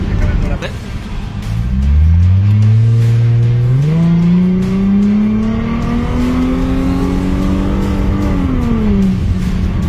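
A Chrysler Crossfire with a 3.2-litre V6 of 218 hp accelerates hard through the gears, its engine note climbing steadily and loud with brief shift dips, while someone talks over the drive.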